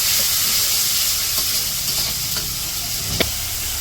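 Shrimp hiss and sizzle in a pan of spiced masala being fried down for a village-style curry, a steady loud frying sound with a few soft stirring clicks and one sharp knock near the end, no voices.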